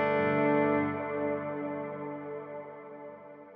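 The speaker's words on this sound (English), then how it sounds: "be able to switch between a really lush reverb" Electric guitar played through a lush, wet reverb pedal: a sustained chord rings out with rich harmonics, then slowly decays into a long reverberant wash with no voices.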